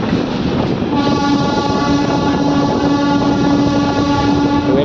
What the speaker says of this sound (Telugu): డీజిల్ ఇంజిన్ అప్పటి నుండే బాగుంటుండే